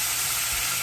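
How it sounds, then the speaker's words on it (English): Capers hit browning butter in a pan and set off a loud, steady, close-up hiss of sizzling frying that holds unbroken for the short moment. "we can go ahead and throw our capers in"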